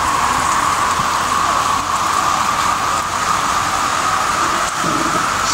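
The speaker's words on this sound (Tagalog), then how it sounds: "Kasi tuloy-tuloy pa rin yung ulan." Heavy, continuous rain pouring during typhoon flooding in San Luis, Antipolo City, a loud, unbroken wash of rainfall heard alone without voices.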